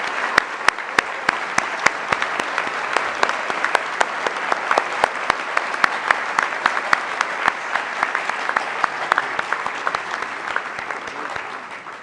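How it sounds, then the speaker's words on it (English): Ceremony audience applauding in a long, sustained round of dense clapping with sharp individual claps standing out, steady and loud for about twelve seconds. "for all of the students to give your parents and families a large round of applause"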